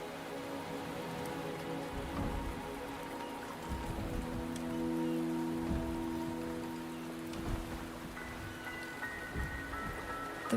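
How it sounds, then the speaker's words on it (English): Steady rain patters across surfaces in the video game Wuthering Waves, a continuous soft hiss with tonal music layered underneath. "The rain is subsiding, and the sky will soon clear."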